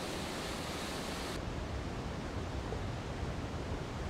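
A waterfall in a South American park roars as a steady, loud broadband rush of falling water, continuous and unbroken throughout with no voices.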